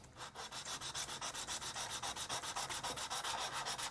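Steady back-and-forth strokes of a plastic scratch-built box edge rubbed on flat sandpaper, a regular rasping rhythm of about six strokes per second, close and without talk.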